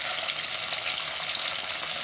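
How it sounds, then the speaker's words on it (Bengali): Bata fish fry in hot oil in a wok, giving a brief, steady, close sizzling hiss without voices. "তো আমরা কড়াতে তেল দিলাম, তেলটা গরম হয়ে গেলে মাছগুলোকে ছেড়ে দেবো"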